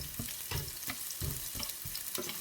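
Chopped onion frying in a pan alongside browning kangkong stems, with a steady loud sizzle and periodic bursts from stirring, close and continuous without talk.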